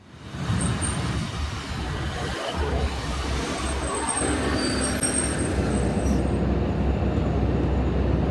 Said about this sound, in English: wait for the next train, the 10:40 Transport for Wales service